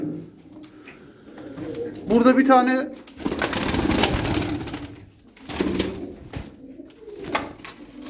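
Ankara style pigeons coo in soft, throaty bursts up close, with a rolling coo standing out early, while someone talks over and between the calls.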